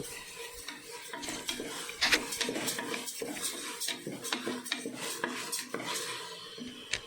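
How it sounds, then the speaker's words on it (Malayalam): A pan of food being stirred and fried down on a home kitchen stove to cook off its water, with a steady run of metal spoon scrapes and clinks against the pan over a faint sizzle, close and continuous without talk. "ഇങ്ങനെ ഇളക്കി ഇളക്കി ഇളക്കി അതിൻ്റെ വെള്ളമൊക്കെ വറ്റിച്ച്"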